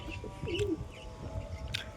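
A high-flying pigeon coos in a few soft, low, rolling calls, moderately close, over a faint background of ambient outdoor noise and brief chirps.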